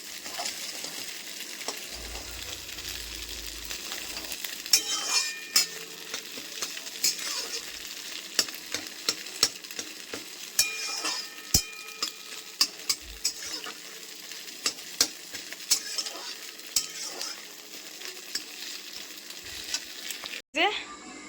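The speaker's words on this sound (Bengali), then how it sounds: "ডিমটা ভালো করে ভেজে নিয়ে তারপরে জল দিয়ে ম্যাগির মশলাটা দেবো" An egg sizzling and frying in a pan ahead of making Maggi noodles, a continuous bright crackle with frequent scrapes and clinks of a stirring utensil, close and fairly loud.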